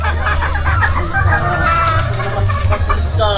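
Hens cluck at a farm, a dense and busy chorus close by that keeps going steadily, with a low rumble underneath.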